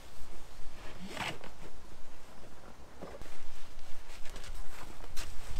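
Straps on a Black Widow trailerable motorcycle cover are pulled tight around the bike, with a steady rasping, zipper-like ratcheting and rustling of fabric heard close up and continuing throughout, no talk.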